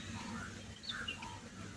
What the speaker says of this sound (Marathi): इथं कावड्यांचा बघा किती किलबिल आहे